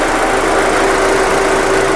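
A 2008 Audi A4 Cabriolet's 2.0-litre four-cylinder engine running close by, a loud steady drone with a constant tonal hum throughout and no change in speed.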